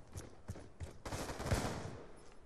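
Burst-fire gunshots in Call of Duty: Black Ops 2 gun game, a few short cracks early then a loud dense volley of gunfire near the middle, fading out.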